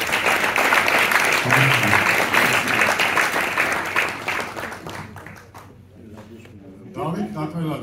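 An audience at a choreography masterclass applauds in thanks, with loud, dense clapping that fills the room for several seconds before thinning out into scattered claps as voices come through.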